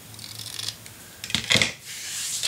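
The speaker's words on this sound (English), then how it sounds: "Cut them all nice." Scissors snip through small craft pieces for a memory box kit, with a few quick, close cutting strokes and light rustling between them.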